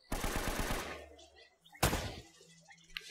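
A fast burst of automatic gunfire in Uncharted: Drake's Fortune, loud and close, followed after a pause by a single heavy shot or impact, then quieter ambient game sounds.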